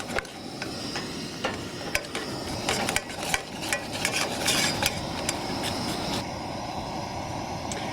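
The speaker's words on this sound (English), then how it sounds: "And you dump those into the melted butter and stir. So you stir that until it's all combined." Shrimp are stirred into melted butter in a pan for shrimp Newburg, cooked outdoors in Death Valley. A spoon scrapes and clinks against the pan in irregular taps over a low, steady background, with no talking.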